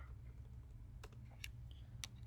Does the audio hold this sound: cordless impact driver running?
no